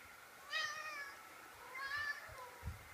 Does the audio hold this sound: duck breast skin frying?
no